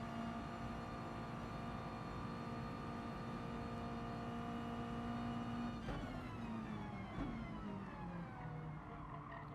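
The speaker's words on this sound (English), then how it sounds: "Some early downshifts, really stressing out the engine." A race car engine in a sim racing league video game, droning at high revs with a steady whine, then dropping pitch sharply through early downshifts near the end, loud and continuous with no talk.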